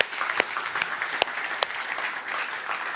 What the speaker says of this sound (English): I just give a clap again, just thankful.